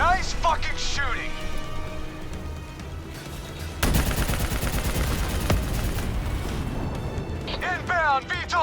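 Heavy gunfire aimed at an armored personnel carrier in Call of Duty: Black Ops 3 comes as dense, loud bursts of rapid shots and booming impacts, with shouted voices at the start and end.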